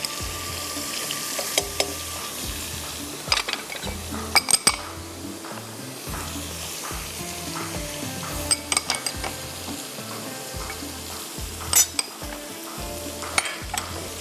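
Coriander seeds, ginger, garlic and turmeric sizzle in a hot pan while a spoon stirs and clinks against the metal now and then, with no talking.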